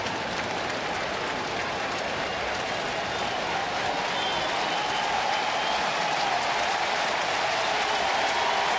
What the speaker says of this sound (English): Sellout crowd up on their feet, trying to urge on the Reds and Matt Latos to close this one out.